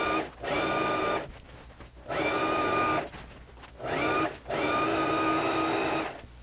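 Sewing machine stitching a jacket's sleeve and side seams closed, running in three sustained bursts with a steady whirring hum, separated by short pauses, close and moderately loud.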